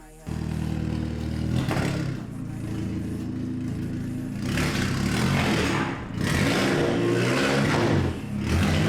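A Cadillac engine on a dyno roars steadily at high revs, rising and surging in waves, loud and close, with a mechanical rattle underneath.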